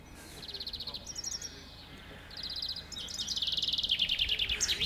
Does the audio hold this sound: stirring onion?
no